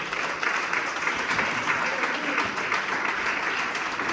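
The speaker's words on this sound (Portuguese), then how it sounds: "com palmas bem alegres para nós" Joyful applause from a church congregation during a worship service: a steady, dense wash of clapping that holds at an even level for about four seconds.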